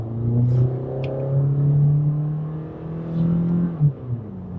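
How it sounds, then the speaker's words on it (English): A 2017 Toyota Corolla XSE with a CVT accelerating uphill, its engine drone climbing steadily with brief dips at the simulated shift points, heard from inside the cabin with no talking. "it does have those simulated shifts that you will find on a lot of the CVT transmissions in those vehicles"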